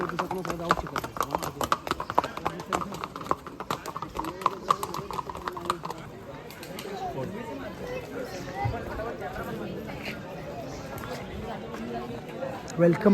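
Horse hooves clip-clop on the path at Matheran hill station, a quick run of crisp, close hoofbeats that later fades into a busier, softer background while people talk nearby.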